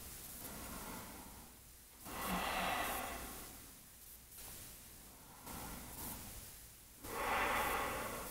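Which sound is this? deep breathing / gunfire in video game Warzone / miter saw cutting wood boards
deep breathing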